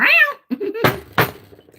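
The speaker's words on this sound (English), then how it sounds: "Big cat." A house cat lets out a loud, close meow with a rising and falling pitch, followed by a softer short vocal murmur and two dull thumps, all within under two seconds.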